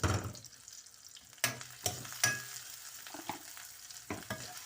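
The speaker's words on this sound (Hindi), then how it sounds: "अब इसको गोल्डन करके फिर मैं आपसे मिलती हूँ आगे" Onion, ginger and garlic fry in oil and butter for mustard greens saag, a close hissing sizzle broken by several sharp spoon scrapes and taps against the pan.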